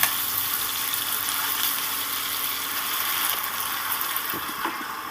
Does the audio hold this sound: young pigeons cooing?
no